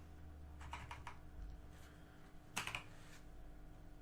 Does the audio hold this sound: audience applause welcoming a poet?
no